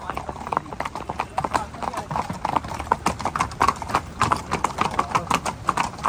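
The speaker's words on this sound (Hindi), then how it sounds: "नहर के पुलों के ऊपर जब घोड़ों की आवाज़ और गूंजती है" Hooves of a Marwari horse clip-clop at a steady trotting rhythm on a long-distance ride, close and clear, with a faint echo and light background noise throughout.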